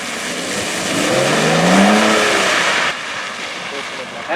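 A Rolls-Royce drifts with its engine revving up and swelling to a peak, then easing off abruptly, loud and close, with someone talking over it.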